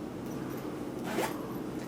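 A zipper on a flower pillow is drawn once in a quick, soft rasping pull, close and quiet against a hushed room background.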